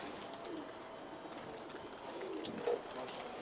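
A pigeon gives faint, soft coos with a few brief chirps over steady low background noise, distant and quiet.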